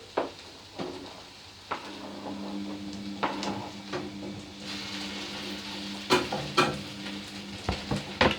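Carrots going into a hot pan for a vegetable pasty filling, then stirred: a soft sizzle under intermittent scraping and knocks of the utensil against the pan, growing busier toward the end.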